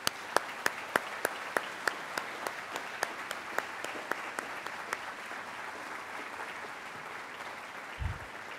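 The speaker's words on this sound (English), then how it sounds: "let's give all of our volunteers a round of applause" A school volunteer awards ceremony crowd applauds, a moderately distant wash of clapping from many hands with a few sharp, regular claps standing out early, fading out toward the end.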